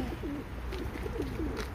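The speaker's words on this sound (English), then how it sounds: "Oh, look at all those pigeons." Pigeons coo in repeated soft, low rolling calls at a petting zoo, steady over a constant background hum with no talking.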